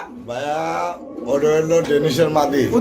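Pigeons coo nearby at a pigeon sale while someone talks over them.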